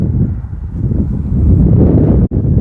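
Strong wind roars across the open Mesquite Flat Sand Dunes in Death Valley National Park, buffeting the microphone with a loud, steady low rumble and a brief dropout near the end, with no voices.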